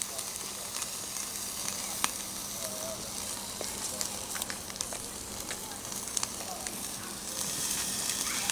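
Sous vide tri tip searing over hot coals outdoors, a soft continuous sizzle and crackle with scattered pops, steady and fairly quiet throughout, with no voice over it.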